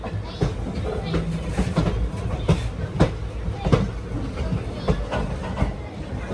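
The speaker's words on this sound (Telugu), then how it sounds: "సికింద్రాబాద్ షాలిమార్ ట్రైన్ అది" A Secunderabad–Shalimar special train rolls past, its wheels knocking in a steady clickety-clack with rumbling rail noise, while people talk nearby.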